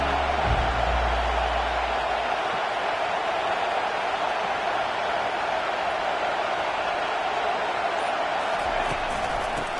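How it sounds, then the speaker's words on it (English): Stadium crowd in the college football game NCAA 25: a steady, loud, unbroken roar of fans filling the whole stretch, with a low thump near the start. "This crowd trying to show them what it's going to be like all day in this house."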